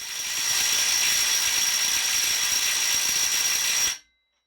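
A Bosch GDS 18V-450 HC cordless impact wrench tightens a nut in one continuous, loud burst of rapid hammering with a steady high whine, running about four seconds before cutting off abruptly into silence.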